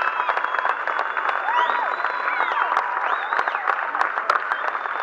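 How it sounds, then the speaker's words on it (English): Sustained audience applause for Marine Corps members who performed a flag ceremony at a Boomtown event, a dense steady clatter of many hands clapping for the full length, fairly loud, with a faint murmur of the crowd mixed in. "a big round of applause for serving us"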